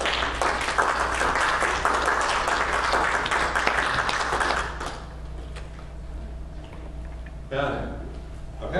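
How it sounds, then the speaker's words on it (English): A church congregation claps in praise during a Sunday service, dense clapping for several seconds that cuts off, leaving quiet room sound with a few scattered claps and a brief burst of voices near the end. "Give him a hand clap for praise."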